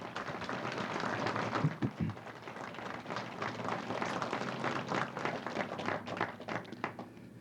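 An indoor audience applauds the crew who built a spa at its opening ceremony in Manitou Beach, a moderate, uneven patter of clapping lasting several seconds at mid distance.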